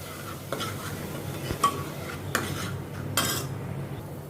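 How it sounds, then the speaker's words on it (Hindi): A spoon stirs crushed tomato with ginger-garlic paste in a pan, giving a few distinct metallic scrapes and clinks over a soft low sizzle, close and clear with no talking. "इसको भी अदरक लहसुन के पेस्ट के साथ अच्छी तरह से घुमाती हूँ।"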